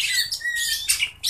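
A kacer, or magpie robin, calls while sunning, giving a run of loud, close chirps and bright whistled notes with short pauses between phrases and no other sound.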